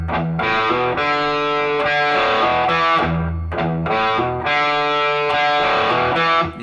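A distorted electric guitar plays a slow, bluesy riff alone, with repeated palm-muted low E-string notes and sustained chords at a steady, loud level.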